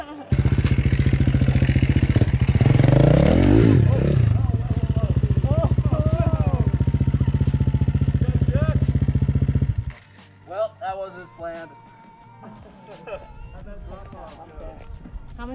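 Motorcycles ride on the Slickrock Trail in Moab, a loud, steady engine drone holding for about ten seconds and then dropping away, leaving voices talking over quieter rumbles.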